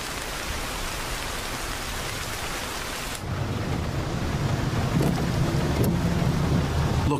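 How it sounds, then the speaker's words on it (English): Heavy rain pours down as a dense, continuous hiss, then grows louder and lower partway through as the downpour thickens, with a few sharper spatters over the steady roar. "The rain is pouring."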